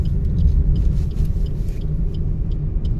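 A car's engine rumbles low and steady as it rolls along in gear during a driving lesson, a loud close drone with faint ticking above it.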